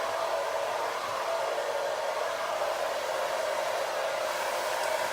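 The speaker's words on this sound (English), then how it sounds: "really, the blow dryer and the diffuser are doing the work" A hair blow dryer fitted with a diffuser, used to dry curly hair, blows in a steady, even whoosh with a constant motor tone, close and alone.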